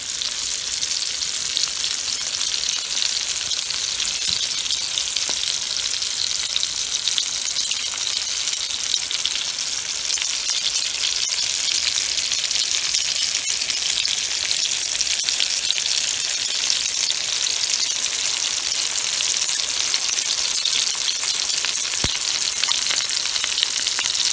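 Hamburger steaks fry in a pan of hot oil, giving a steady, close, bright sizzle with faint pops and crackles that continues unbroken throughout.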